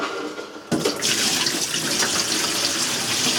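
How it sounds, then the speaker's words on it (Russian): Dirty water left from washing coconut charcoal from an old filter pours out in a steady, loud rush that starts abruptly and continues without a break, close by and with no talk. "Выльем воду."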